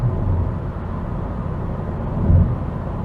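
Inside a Ford Focus Mk1 Millennium Edition with a 1.8 litre engine cruising at national speed limit pace, a steady low road rumble and engine drone with wind noise, continuous and fairly loud, with no talk.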